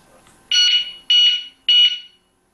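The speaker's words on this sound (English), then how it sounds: "So anytime that you do touch the lock now, it will give you a one beep that the security officer at night should be able to hear." An intelligent security alarm lock giving its pre-warning alert when touched: three loud, shrill electronic beeps in a steady rhythm, each about half a second long, sounding close against near silence.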